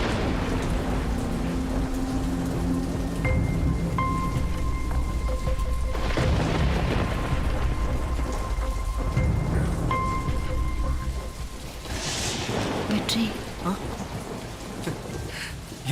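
Heavy rain pours steadily through the whole stretch, with rolling thunder rumbling low beneath it and a faint voice murmuring briefly near the end.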